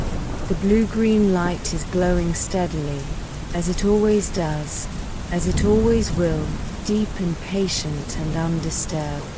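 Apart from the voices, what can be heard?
rain on a roof, Minecraft ambience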